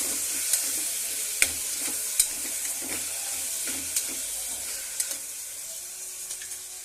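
Tomatoes and green chillies sizzling in a pan while being stirred, a soft continuous frying hiss with light scraping taps of the spoon at a loose rhythm, close and fairly quiet.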